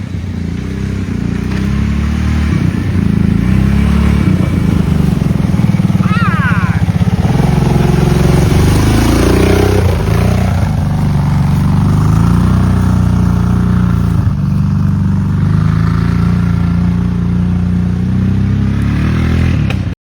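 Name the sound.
ATV engine running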